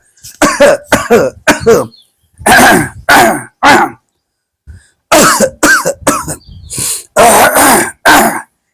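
Repeated throat clearing and coughing come in short, close, forceful bursts, grouped in uneven runs with brief silent pauses between them.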